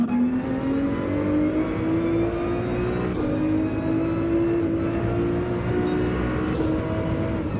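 A Porsche race car engine in Gran Turismo 7 at Deep Forest Raceway holds a loud, steady high drone, the pitch creeping slowly upward with small dips at gear changes, continuous and alone throughout.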